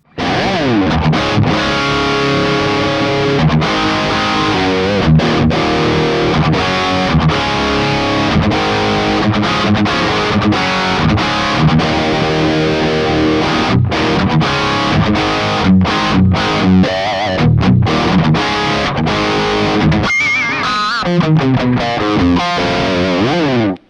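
Heavily distorted electric guitar through a Metatronics M1000 amp clone, playing dense, continuous riffs with brief chokes and a squealing lead flourish near the end, loud and alone.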